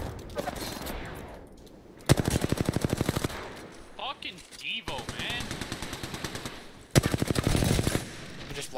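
Automatic gunfire in the battle royale game Apex Legends, with rapid rattling bursts, two of them loud and sharp, over busy game sounds and ability effects, while players talk.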